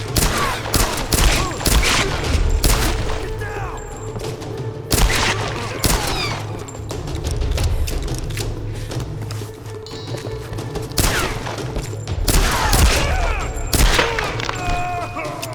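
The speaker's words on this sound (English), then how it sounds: "get the SMG out, get it firing right at them, hit as many as you can" SMG fire in Tomb Raider Definitive Edition chatters in dense, loud automatic bursts almost nonstop, mixed with booms and other combat noise throughout.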